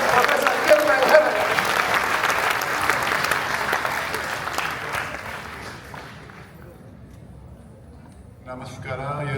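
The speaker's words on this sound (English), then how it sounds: "So please give a big round of applause" A keynote audience bursts into loud, sustained applause to welcome the speaker. The clapping fades out after about six seconds, and a voice begins near the end.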